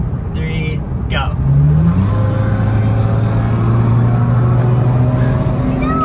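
A first-generation Toyota Tacoma pickup accelerates hard in a drag run, its engine tone climbing steadily and loudly from inside the cab, with a constant rush of road and wind noise.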